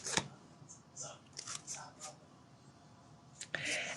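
Lenormand cards shuffled and handled up close, with soft riffling bursts, slaps and rustles spread across the moment, quiet and intimate.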